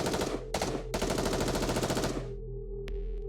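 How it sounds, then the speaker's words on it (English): Rapid automatic gunfire rattles along a street in the video game NIKKE, a dense, loud burst with a brief pause, then it cuts off, leaving a low hum and one sharp crack. "there's the sound of gunfire, and screams fill the street"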